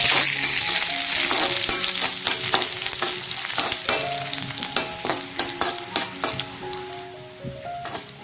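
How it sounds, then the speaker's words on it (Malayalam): Garlic and dried red chillies sautéing in a pan for a spinach stir-fry, loud close sizzling with frequent sharp crackles and spatula scrapes, the spitting growing more irregular and percussive toward the end. "വെളുത്തുള്ളിയും അതുപോലെ നമ്മൾ എടുത്തു വെച്ച വറ്റൽ മുളകും ഇട്ട് ഇത് നന്നായി ബ്രൗൺ കളർ ആവുന്നവരെ ഒന്ന് വഴറ്റിയെടുക്കാം"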